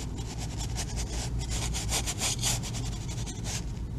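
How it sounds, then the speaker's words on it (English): A very dry oil paintbrush with little paint rubs back and forth on canvas, close and fairly quiet with a steady scratchy rhythm of short strokes. "You can hear my brush on the canvas. It's very dry."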